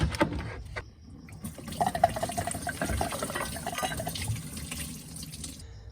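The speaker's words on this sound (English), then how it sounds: "about to drain the coolant and try and capture as much of it as I can. So I'm going for that bottom radiator hose" Engine coolant from a Volkswagen Golf GTI Mk5 draining out of the disconnected bottom radiator hose into a container, a steady close gurgling pour of liquid that runs for several seconds before easing off.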